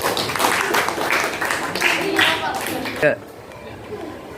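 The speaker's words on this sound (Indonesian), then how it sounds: "Beri tepuk tangan untuk kelompok 6." A classroom of students claps for a presenting group during an Indonesian school lesson: a dense, fairly loud burst of many hands for about three seconds that cuts off abruptly, leaving a quiet room.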